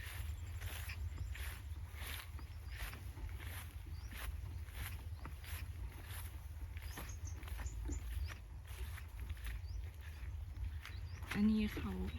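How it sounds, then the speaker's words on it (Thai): Steady rain falls over rice paddy fields with a constant patter over a low rumble, continuing evenly throughout, with faint voices now and then underneath. "เสียงฝนมากเนาะ"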